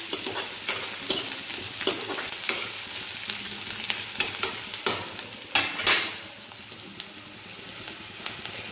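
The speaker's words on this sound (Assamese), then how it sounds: "আৰু অলপ ৰঙচুৱা হোৱালৈকে পিঁয়াজখিনি ভাজি ল'ম" Onions fry in a pan for a fish kalia, a steady soft sizzle broken by repeated scraping and clinking as a spoon stirs them.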